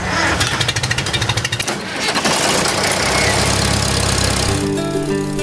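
A John Deere tractor engine running at a tractor gathering, a loud close rumble with rapid pulsing chugs at first that settle into a steady running drone.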